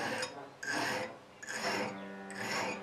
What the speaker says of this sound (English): This is a small bastard file. I'm just putting a 45-degree chamfer on here